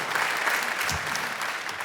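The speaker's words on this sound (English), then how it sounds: "I love how they clap in rhythm" A theater audience at a comedy show claps together, a dense steady wash of applause held at an even level for a couple of seconds, with no voices on top.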